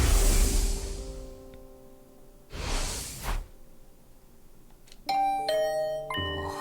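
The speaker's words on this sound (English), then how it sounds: "Was that my doorbell?" A chiming two-tone doorbell rings in The Hundred Line: Last Defense Academy video game, the bright tones arriving after a whoosh and a soft sustained pad, with the bell clear and loud near the end.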